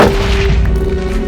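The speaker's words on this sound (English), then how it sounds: "These explosions are huge." Explosions in a video game make a loud, dense booming rumble that fills the whole short moment, with a steady low tone running through it.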